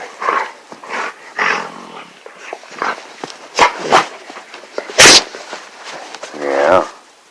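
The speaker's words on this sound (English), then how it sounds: "My dogs are in here with me." Pet dogs indoors beside a person, giving a few short whines and vocal sounds mixed with bursts of nearby talking and one sharp loud burst.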